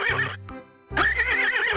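A horse gives two loud, close whinnies separated by a short pause, with no talking over them.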